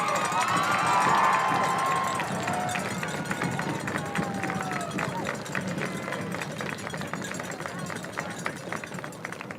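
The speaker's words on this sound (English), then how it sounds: "they would like you all to give a round of applause" An audience at a school music competition claps and cheers in a loud burst that slowly fades into scattered applause and crowd murmur, with a brief voice near the start.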